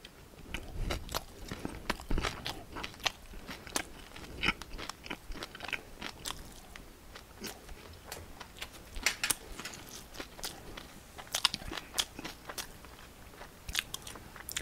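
Kimchi eaten with meat, heard as close crunches and bites recurring irregularly over soft wet chewing, steady throughout with no talking.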